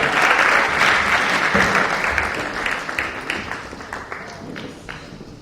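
An audience at a UK Congolese youth award ceremony breaks into full, dense applause that starts loud and gradually thins out into a few lingering claps.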